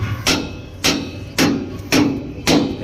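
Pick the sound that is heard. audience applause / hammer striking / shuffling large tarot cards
hammer striking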